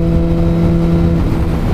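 A Suzuki GSX-R1000R motorcycle cruises at 70 mph in sixth gear on a motorway, its engine a loud steady drone with constant tonal hum under heavy wind rush, no talking.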